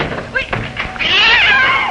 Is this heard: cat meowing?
yes